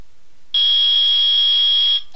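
A metal detector alarm from the Phoenix Wright: Ace Attorney video game goes off in a courtroom scene, one loud, steady electronic buzzing tone that sounds for about one and a half seconds and then cuts off.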